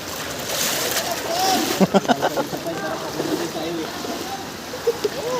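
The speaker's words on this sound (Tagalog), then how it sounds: "Grabe lang sa agos." Rushing floodwater surges through flooded Valenzuela in a steady broad wash with sloshing splashes, while people talk nearby over the current.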